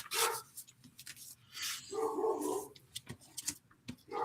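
A lonely puppy barks in a handful of short, loud bursts close by, with brief pauses between the yaps.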